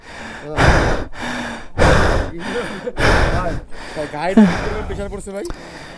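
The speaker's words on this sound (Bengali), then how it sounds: "আমার নিঃশ্বাস দেখে তো বুঝতেই পারতেছেন" Heavy, loud panting close up after climbing the steep road up Keokradong hill in Bandarban: several deep, gasping breaths in a row, ending with a few breathy vocal sounds.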